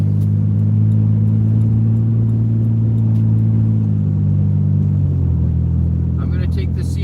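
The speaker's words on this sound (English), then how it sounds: "I am currently driving to work" A big red van's engine drones low and steady while driving, the pitch stepping down near the end as it shifts or eases off, with a few faint clicks over the top.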